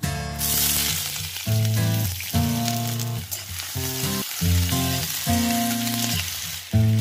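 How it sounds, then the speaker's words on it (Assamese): Chopped onions frying in hot oil in a pan, a loud steady sizzle running throughout with intermittent tonal hum from nearby kitchen sounds, no talking. "পিঁয়াজখিনি অলপ কোমল হোৱালৈকে ভাজি থাকিব লাগিব।"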